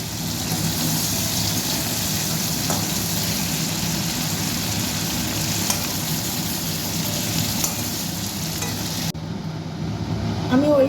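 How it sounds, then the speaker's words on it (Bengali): Sugar is stirred in the hot oil left from frying chicken for kosha, giving a steady close sizzle with scraping stirs and a low background hum, then a sudden drop near the end. "চিনিটা দিয়ে আমি একটু নাড়াচাড়া করে নিলাম।"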